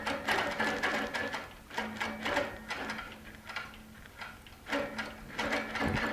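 A Baby Lock Regent sewing machine stitching during ruler work, making a steady, close, rhythmic clatter of the needle going up and down, with short pauses and changes in pace.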